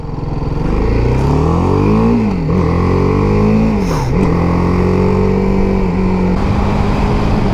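A BMW G310R single-cylinder motorcycle engine revving under way at road speed, loud and close, with rising and falling revs through several gear changes over a steady wind-rushed drone.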